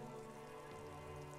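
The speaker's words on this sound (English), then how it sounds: "Your coat shields you from the rain while the city shivers around you." Steady rain falls in the city streets of the video game Disco Elysium, a continuous dense patter with no voices over it.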